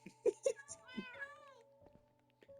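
Cat meowing in the Minecraft video game, two or three short, clear mews near the start and a longer drawn-out meow after, with someone talking quietly alongside.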